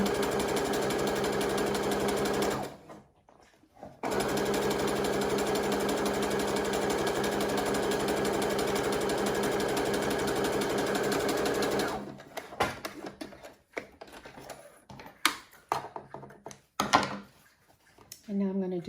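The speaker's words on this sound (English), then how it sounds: "And I'm going to do a zigzag stitch on the top and bottom." A sewing machine runs a steady, close zigzag stitch across a fabric face mask for several seconds, stops briefly, resumes, then gives way to scattered thumps and handling clatter.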